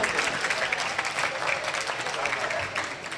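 A crowd at a poetry mushaira gives dense, steady applause, a full sustained wash of many hands clapping that fades slightly toward the end.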